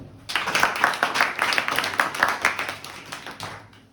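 Students in a math class burst into a round of quick, dense hand claps, loud and close at first, then thinning and fading out after a few seconds.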